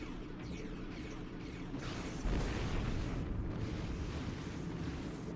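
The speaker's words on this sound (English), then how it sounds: "Right, high yield torpedo. Fire." A high-yield torpedo explosion in the space combat game Star Trek Online, heard as a sustained, dense rumbling roar with a heavier swell midway, continuous and loud throughout.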